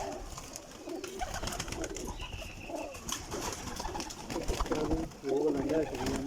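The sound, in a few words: pigeons cooing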